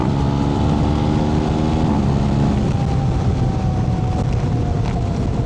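A BMW R 1300 GS motorcycle accelerating on the road, its engine drone climbing steadily in pitch under a constant rush of wind noise, loud and close throughout with no speech.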